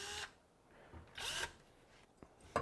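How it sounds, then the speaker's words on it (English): Short bursts of a power drill boring through with a 1/4 inch bit, two whirring spurts separated by pauses, followed by small clicks, fairly quiet and close. "take a 1/4 inch drill bit and drill right through"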